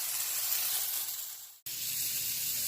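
Green beans frying in a single tablespoon of oil, giving a steady, close hiss and sizzle that cuts out for an instant, then resumes at the same level.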